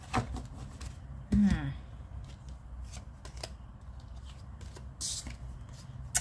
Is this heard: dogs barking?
no